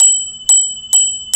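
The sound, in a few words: bicycle bell ringing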